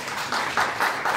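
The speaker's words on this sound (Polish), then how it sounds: "Proszę jednak o brawa." Steady applause from a crowd at a mayoral candidates' debate in Białystok, Poland, a dense wash of clapping that swells slightly in waves over about a second.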